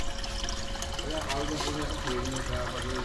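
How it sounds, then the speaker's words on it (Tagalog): Water pours and trickles into a garden wishing well as it fills, a steady bubbling splash with gurgling swirls, close and fairly loud, while people talk over it. "Ayan ang tubig. Pupuno na siya, mapupuno na."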